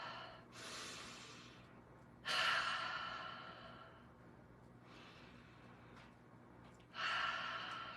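Deep breaths through the nose during a full body stretching routine: several long, close inhales and airy exhales, each swelling then fading, with quiet hum in between.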